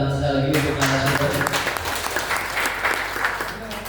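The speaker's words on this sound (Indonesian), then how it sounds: "Mohon kita berikan tepuk tangan sekali lagi untuk narasumber" Audience applause for the speaker at a zakat collection outreach event, a dense burst of clapping that rises over the tail of a voice and holds strongly for a few seconds before gradually easing.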